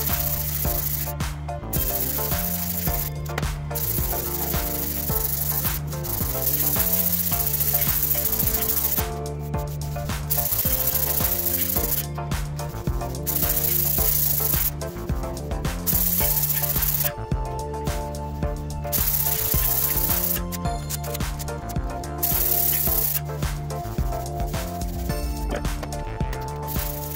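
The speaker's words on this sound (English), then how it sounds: "I'm going to sand it down with my floppy long block" A floppy long block rasps back and forth over a Fiat Barchetta body panel, loud rhythmic scraping strokes with short pauses between them, close up, and continuing throughout.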